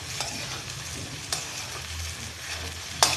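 Poha (flattened rice) stirred in a pan: a soft, continuous scraping sizzle with a few sharper clacks of the spoon against the metal, close and unaccompanied by speech.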